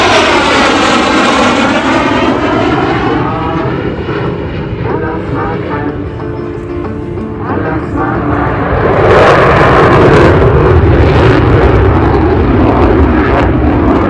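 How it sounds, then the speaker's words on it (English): A CF-18 Hornet fighter jet roars overhead at an airshow, its engine noise swelling and shifting in pitch, loud and continuous, with a voice faintly under it. "here comes the CF-18 Hornet."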